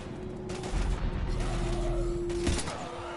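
Heavy gunfire in a Mass Effect 3 battle against Husks, a dense continuous barrage of shots with mechanical clatter and a steady low rumble, loud and close throughout.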